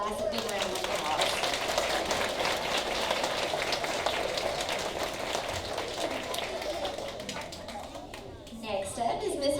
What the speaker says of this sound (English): Let's give Mr. Gilroy's class a big round of applause.